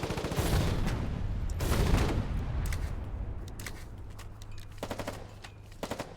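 Game gunfire in Foxhole aimed at an enemy trench: dense bursts of rapid shots that are loud early, then thin out to scattered sharper cracks toward the end.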